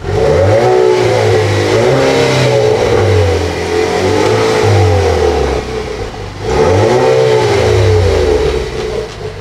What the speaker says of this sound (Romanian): haideți să vă arăt cum se aude evacuarea